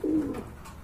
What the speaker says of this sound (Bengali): এক জোড়া কোয়ালিটি ফুল শার্টিন কবুতর দেখতে পাচ্ছেন